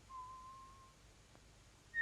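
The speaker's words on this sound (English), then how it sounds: "he heard somebody whistling behind one of the closed doors" A person whistles a single thin, sustained note from behind a closed door, faint and muffled against a quiet background, lasting about a second.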